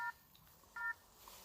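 A ghost-hunting NF detector set up during paranormal urban exploration at a château emits two short electronic beeps, each a brief steady tone separated by quiet, heard close with no talk.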